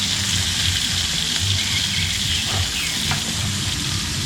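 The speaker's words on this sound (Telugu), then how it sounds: "వాటితో పాటుగానే పచ్చిమిర్చి కూడా వేగుతాయి ఫ్రెండ్స్" Green chillies fry in hot oil for a jujube (regu) chutney, giving a steady, close, dense sizzle that holds evenly throughout with no voices.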